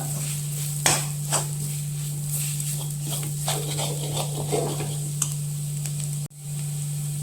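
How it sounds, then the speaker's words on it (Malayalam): A spoon stirs chilli powder and black pepper into a hot pan of masala for a kappa biriyani. Soft sizzling and occasional scraping clicks sound over a constant low kitchen hum, close by with no talking. "മുളക് പൊടി, കുരുമുളക് എല്ലാം കൂടി നന്നായി ഇളക്കി കൊടുക്കുക."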